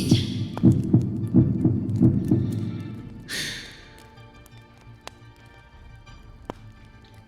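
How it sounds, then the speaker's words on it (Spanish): A heartbeat sound effect from a dramatized reading of Poe's 'The Tell-Tale Heart': steady, loud double thumps for about three seconds, then a brief rushing noise, after which the pulse drops to faint, scattered beats. "Ese corazón que escuchan es el de su cadáver."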